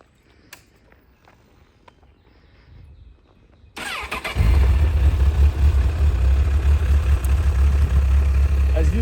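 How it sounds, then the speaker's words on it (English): A Honda CBF 1000 ABS inline four-cylinder motorcycle with a modified straight exhaust starts up after a few quiet seconds with faint clicks, then settles into a loud, steady, deep idle that continues to the end. "As you can hear, it's a 4-cylinder engine in line."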